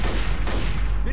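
Rapid bursts of gunfire in the shooter game Left 4 Dead, loud and dense in a short clip, with a voice partly audible underneath.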